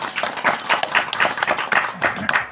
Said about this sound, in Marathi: खरंच त्याच्यासाठी एकदा जोरदार टाळ्या होऊन जाऊ द्या